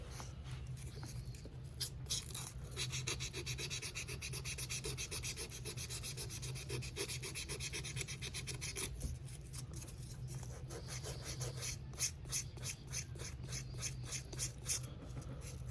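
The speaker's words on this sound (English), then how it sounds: "little pieces of sandpaper, not a lot of pressure" Small pieces of sandpaper rub lightly over a sneaker sole, a Victor Cruz trainer, giving a steady, soft scratchy texture throughout with a low hum beneath and no speech.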